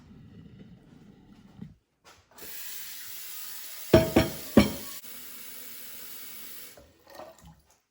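Tap water runs steadily into a pot in a kitchen for about four seconds, the stream punctuated by three sharp metallic clanks, with quieter handling noises before and after.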